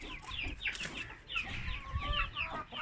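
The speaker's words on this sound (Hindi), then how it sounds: "वैसे तो मेरा मुर्गा भी है।" A rooster clucks on a sunny rooftop in cold weather, its short, repeated calls at moderate distance over a steady background rumble.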